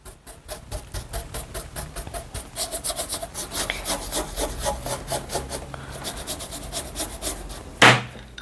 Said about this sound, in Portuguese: Vou só passando o rolinho, esticando.